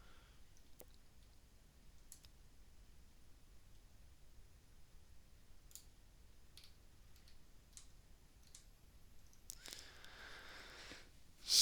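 Computer mouse clicks at a desk during a DragonOS FocalX WiFi HaLow RF analysis session, a sparse series of sharp, close ticks spread unevenly over quiet background hiss, ending in a brief louder burst.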